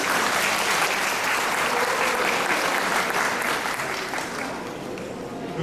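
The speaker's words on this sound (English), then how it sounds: "let's give him a big round of applause." A crowd at the Palau Pacific Resort's 30th anniversary celebration gives Mr. Toshiyuki Saigusa a big, dense round of applause, loud and continuous, then easing slightly toward the end.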